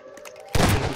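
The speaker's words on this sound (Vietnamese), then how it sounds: "Được rồi, mình sẽ lấy súng bắn nó." Gunfire in a Siren Head horror video game: a sudden loud burst of shots breaks in halfway through, following quieter thumping footsteps, and then rumbles on densely to the end.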